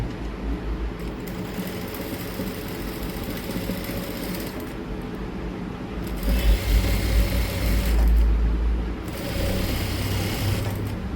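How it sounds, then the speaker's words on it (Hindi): A home-boutique sewing machine stitches a line along cloth, with a steady mechanical whir that is loud and close, swelling and steadying in its second half; no one speaks. "जो हमारी ये लाइन है इस पे सिलाई लगाऊंगी।"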